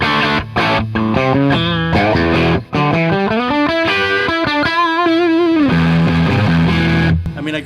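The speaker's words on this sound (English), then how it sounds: "you just bleed in as much distortion as you want." A loud, heavily distorted electric guitar plays sustained chords and bending notes, gritty and saturated, with no talking.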